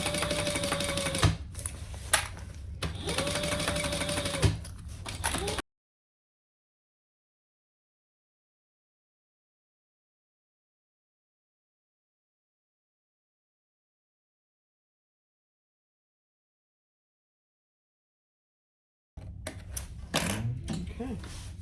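Sewing machine stitching a backpack at a 3.5 stitch length, its motor whirring in close, steady runs broken by brief pauses, then a long silent gap before faint handling noises return.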